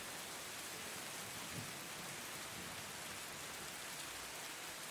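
Steady rain falling on a surface, a dense, even hiss with scattered droplet patter that holds constant throughout, no voices or other sounds.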